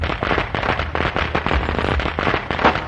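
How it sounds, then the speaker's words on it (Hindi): A rapid, continuous string of loud firecracker bangs, crackling and popping without pause, echoing close by. "मकान खाली होने से पटाखों की आवाजें गूंज रही थी"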